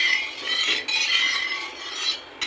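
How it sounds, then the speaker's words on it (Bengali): Mustard oil spread across a hot tawa griddle, a soft scraping and rubbing sizzle with light metallic touches, close and steady, with no talking. "ভালো করে চাটুতে সব জায়গায় মাখিয়ে দিচ্ছি"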